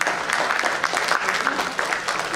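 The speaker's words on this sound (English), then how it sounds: "Give a big clap for yourselves." Conference attendees at a business summit plenary session clapping for themselves, dense steady applause from a room of people, close and fairly loud for a couple of seconds.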